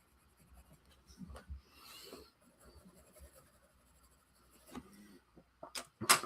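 A 4H graphite pencil scratches and rasps across very smooth paper in soft, close strokes, with a few sharper taps and scrapes near the end.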